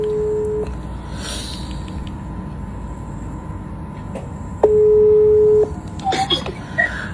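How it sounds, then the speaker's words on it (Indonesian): Telephone call being dialed, with steady ringback tones pulsing over a faint background hiss and a few short electronic blips near the end. "oke nih gue telepon sekarang Mbak Fitri."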